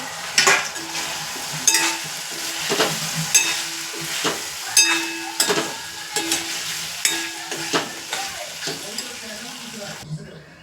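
Potatoes frying in a pan with chili masala, soy sauce and peri peri masala, under a steady sizzle while a spoon scrapes and clinks against the pan in repeated rhythmic strokes, close up with no clear talk.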